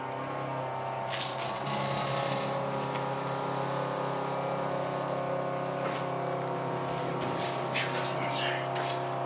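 A 1959 VW Beetle convertible engine runs on old gasoline, giving a steady, close idle drone that holds evenly through the whole stretch.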